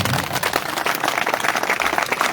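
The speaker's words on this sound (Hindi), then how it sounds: "थोड़ा ताली बजा" A group claps hands steadily and continuously, a dense patter of applause filling the whole stretch without pause.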